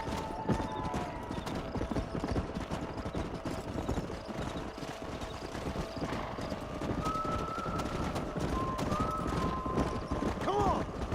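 Horse hooves clip-clop steadily in a Western video game, galloping on through continuous mid-level rumble with a few whinnies and a game voice.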